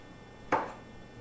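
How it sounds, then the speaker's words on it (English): A knife chops once through rolled-up herbs on a cutting board, a single crisp close thunk that fades quickly, making a chiffonade for pecan pesto. "when you take your herbs and kind of roll them up together and then cut them like that"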